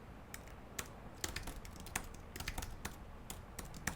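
Keys on a wired Apple Mac keyboard clatter in quick irregular bursts, close and clear, with no one talking.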